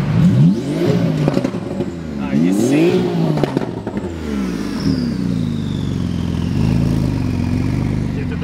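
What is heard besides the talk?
cars arriving and revving at Goldrush Rally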